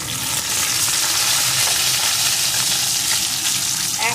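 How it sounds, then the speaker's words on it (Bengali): Homemade urad dal bori fry in hot oil after fish, giving a loud, continuous bubbling sizzle that stays steady with no one talking. "এখন এই তেলের ভিতরে দিয়ে দেব কয়েকটা বড়ি"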